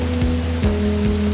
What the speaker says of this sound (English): we need to get out of this acid rain!